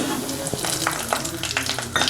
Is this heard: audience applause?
no